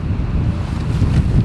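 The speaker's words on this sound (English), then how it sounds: "Cold, windy, temperature dropped." Strong, cold wind buffets the microphone on a fishing boat during bass tournament practice at Kissimmee, giving a loud, continuous low roar with gusty swells and no voices.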